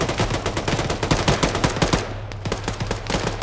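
Dense, rapid automatic gunfire in a military video game, loud and close, sustained bursts overlapping with scattered single shots and no voices.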